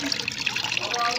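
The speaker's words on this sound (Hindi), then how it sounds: "तो मैं डायरेक्ट इस पानी में ही इस फर्टिलाइज़र को छानने वाली हूँ।" Homemade liquid fertilizer is strained straight into plain water with a steady splashing trickle. A voice talks over it.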